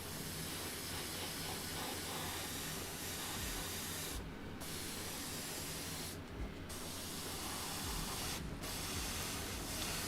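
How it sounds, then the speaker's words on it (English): An airbrush sprays paint onto a model M978 fuel truck with masking tape applied, a steady close hiss that runs continuously with three brief pauses and no talking. "I'm trying not to spray too hard around the tape because I don't want paint getting blown under it."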